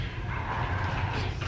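Puppies yip and bark in a brief, busy burst, close and fairly loud against a dense background rumble.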